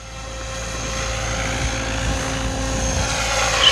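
An OMPHOBBY M5 RC helicopter flies close by, its rotor producing a loud, steady whirring drone that swells slightly toward the end, with no voices.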